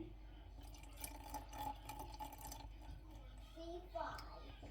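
Water trickles and drips into a container while 60 grams is measured out for a dried sourdough starter being rehydrated, a soft steady pour heard close up with a person talking over it.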